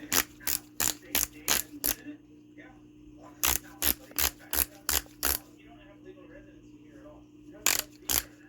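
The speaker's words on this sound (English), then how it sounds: "Go to the inch-pound wrench." Inch-pound torque wrench on a Coleman CC100X motor build, giving sharp, close clicking bursts in quick runs of five or six, separated by brief pauses with faint handling noise.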